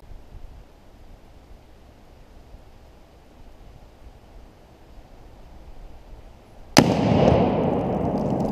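A Tannerite exploding target set off by a single rifle shot bursts in with one sudden, loud broadband blast that rolls into a sustained rumbling roar, after a long stretch of quiet outdoor ambience.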